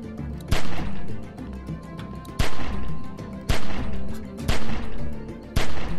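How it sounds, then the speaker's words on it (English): Gunshots ring out in The Walking Dead 400 Days video game, five or six loud, sharp blasts spaced about a second apart, each trailing into a short echoing decay over a low game ambience. "Remember, don't stop shooting."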